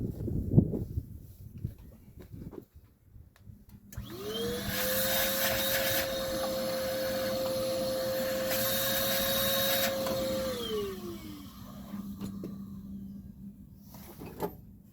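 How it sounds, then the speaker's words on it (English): A vacuum cleaner runs during a car tune-up, switching on with a rising whine, holding a steady loud drone for several seconds, then winding down, with clunks of handling before and after. "I'm going to vacuum that."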